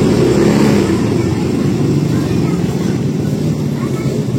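A motorcycle engine runs with a loud, steady, low drone that holds at an even pitch throughout. The bike has an overheating battery and had stalled.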